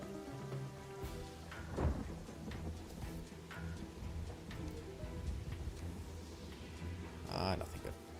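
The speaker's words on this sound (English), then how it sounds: "Lightning was funny the first time it happened and annoying every time after that." A video game thunderstorm rumbles under steady rain, with cracks of lightning and thunder bursts around two and seven seconds amid continuous game music and effects.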